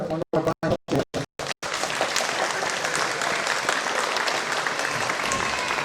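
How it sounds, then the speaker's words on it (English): A voice speaks briefly in short bursts, then a crowd breaks into loud, sustained applause that fills the rest of the clip. "I'd like to give Brian a little round of applause"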